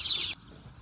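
Native desi chicks give a dense burst of high, overlapping chirps while being loaded into crates, loud at first and then cutting off abruptly, leaving only a low background rumble.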